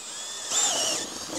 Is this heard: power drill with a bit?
yes